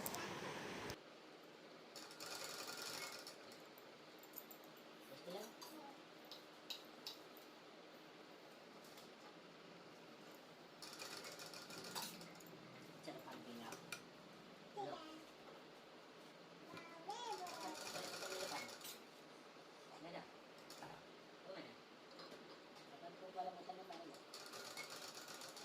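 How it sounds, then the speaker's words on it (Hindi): A sewing machine stitches the sleeve and armhole seam of a baby suit in several bursts of rapid mechanical whirring, close and clear, with pauses between runs and voices audible in the background. "तो चलिए सिल लेते हैं।"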